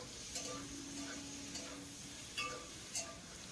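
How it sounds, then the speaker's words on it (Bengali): Marinated okra frying in oil over a raised flame for a vegetarian potato and okra dish, a faint, quiet sizzle broken by a few light ticks and stirring taps. "এখন গ্যাসের ফ্লেমটা একটু বাড়িয়ে দিয়ে ভেন্ডিটাকেও 2 মিনিট ভেজে নেব।"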